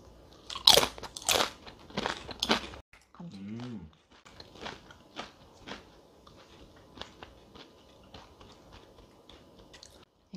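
Crunchy fried chicken being bitten and chewed up close, with loud crisp crunches at first, then a brief voice, then a string of softer rhythmic chewing crunches.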